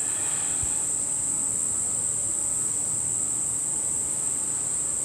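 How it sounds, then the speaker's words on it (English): Cicadas buzzing outdoors during a yoga session, a constant high, dense drone that holds steady throughout over faint background noise. "that buzzing sound that you can hear, that you might be able to hear in the background, is cicadas"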